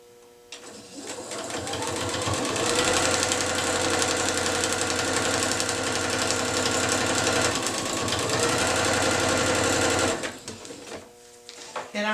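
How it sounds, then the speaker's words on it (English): Sewing machine running steadily for about ten seconds as it stitches straight through quilt fabric, a loud, even mechanical whir that starts and stops abruptly. "I'm just sewing all the way through that fabric just so I can get my threads cut off a little easier"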